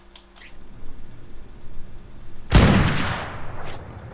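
Gunfire in the ARK desert map: one loud, sharp shot cracks out suddenly and tails off, following quieter game ambience, with no talking.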